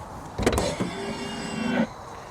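A 1981 DeLorean time machine replica plays an effect through its exterior speakers: a sharp mechanical burst opens a steady whirring tone lasting over a second, which cuts off abruptly and leaves quiet.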